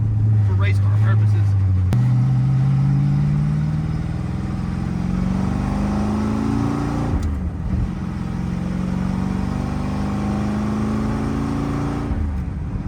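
A Dodge Dart with a V8 engine and four-speed gearbox accelerates hard, its loud exhaust note climbing steadily through the revs, briefly dropping at a gear change, then climbing again up close.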